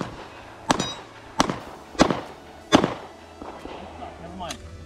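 A brand new handgun fired at an outdoor shooting range expo, four or five sharp cracks spaced about a second apart and heard close, with faint voices in the background.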